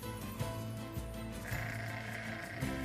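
Sheep in the video game NieR Replicant give several wavering bleats in quick succession over a continuous layer of game music and ambient tones.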